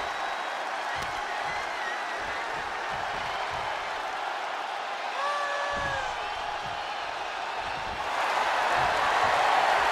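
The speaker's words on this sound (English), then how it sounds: "The sound of this crowd is deafening" Wrestling arena crowd roaring as a steady, dense wash of cheering and noise, swelling louder near the end, with occasional ring thumps and brief whoops in the din.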